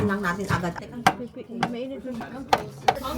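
Knife strokes cut into a cooked prime rib, several sharp taps against a board at uneven intervals, up close, while a person talks throughout.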